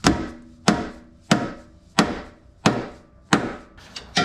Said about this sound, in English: Guess we're gonna smack this with a hammer.